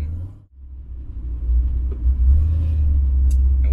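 A car fitted with an ACES EFI Killshot fuel-injected engine rumbles deep and steady on a test drive, the low drone dipping briefly then building back, heard from inside with no talk.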